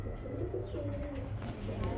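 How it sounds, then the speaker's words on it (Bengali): Pigeons coo softly at a pigeon sale where breeding birds are shown, low throaty calls repeating faintly over a quiet background. "একদম দেখার মতো কবুতর"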